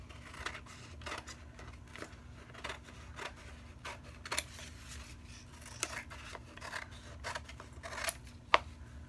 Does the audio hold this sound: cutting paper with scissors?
yes